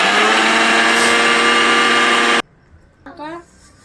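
A kitchen mixer grinder runs loud and steady, blending a coriander chicken marinade, then cuts off abruptly, followed by a brief faint rattle.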